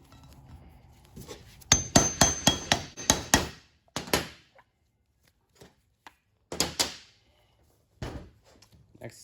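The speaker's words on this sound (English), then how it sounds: "we're going to pound the socket and press this new bushing on" A socket is pounded with a hammer to press a new bushing onto a Chevrolet Silverado front brake part: a quick burst of about six sharp metallic strikes, then a few scattered single hits, close and loud.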